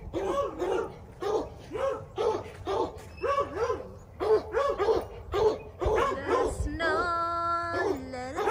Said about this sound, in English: the dog is noisy.